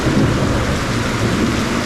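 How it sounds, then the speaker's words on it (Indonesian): Sudden heavy downpour with rolling thunder during a motorbike tour from Jakarta to Anyer, a steady dense roar of rain with low rumbling underneath, loud and continuous with no voices. "Tiba-tiba hujan deres"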